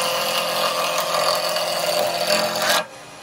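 A 1-inch roughing gouge cutting down a spinning wood blank on a lathe, a loud, steady, close rasping hiss that holds evenly for nearly three seconds and then stops abruptly, leaving quiet motor hum.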